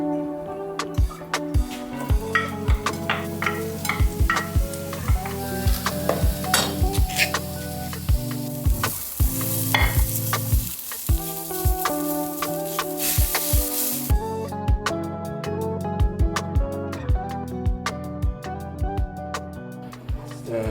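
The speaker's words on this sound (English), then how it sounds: "You add this paste after the onion and garlic, and you just try to heat it up a bit and squish it out" Curry paste frying in hot oil in a pan after onion and garlic, with steady close sizzling and repeated scraping and stirring strokes of a utensil, no talk.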